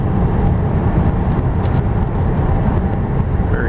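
A 2000 Ford Crown Victoria LX cruising at over 65 mph on a winding road, with a steady, loud broadband roar of road and wind noise and a low engine rumble that holds constant throughout, no voices.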